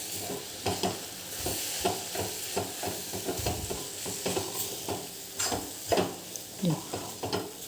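Capsicum coated in besan is stirred in a cooking pan over a continuous sizzle, with rhythmic scraping strokes of a spoon repeating every half second or so.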